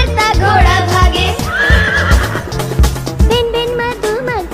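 A horse whinnies in a drawn-out, wavering neigh within a Hindi children's nursery rhyme, set over a bouncy musical backing with percussion.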